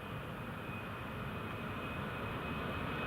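A Ryanair airliner bound for Malaga takes off from Newcastle International Airport, a broad, continuous jet roar heard from a distance, steady and loud with no voices.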